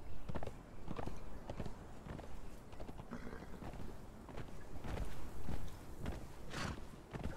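Rhythmic clip-clop of horse hooves at a steady trot or gallop in the video game Conan Exiles, fairly close and continuous, with no talking over it.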